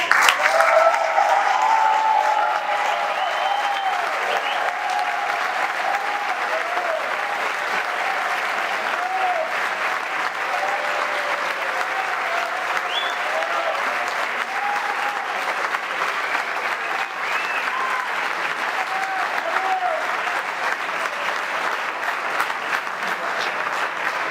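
A seated audience at a book presentation gives long, steady applause, dense clapping that holds at an even level for over twenty seconds, with faint murmuring voices mixed underneath.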